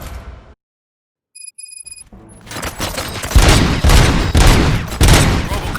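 After a brief silence and a few electronic beeps, loud rapid gunfire erupts in the video game Robocop: Rogue City, a sustained fusillade of overlapping shots and booms, dense and continuous.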